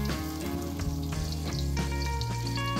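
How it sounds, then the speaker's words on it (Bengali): Eggplant pieces fry in an open, uncovered wok, a steady oily sizzle running throughout beneath a constant layer of background music. "বেগুনগুলো উল্টে পাল্টে ভালো করে ভেজে নিতে হবে।"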